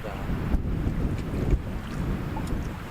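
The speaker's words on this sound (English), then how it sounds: "This wind keeps picking up." Wind gusts across a wilderness lake during a paddle, a low rumbling buffet on the microphone with soft water sounds and a couple of faint knocks.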